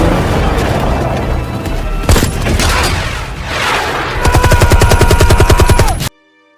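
Loud bursts of gunfire and booms from a film action scene, ending in a rapid machine-gun rattle before cutting to silence.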